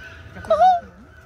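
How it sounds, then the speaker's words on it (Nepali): A duck or goose gives a single short honking call outdoors at Godavari botanical garden, brief and fairly close against quiet background. "यतातिर के हाँस कराएको हो? हाँस पो हो जस्तो छ।"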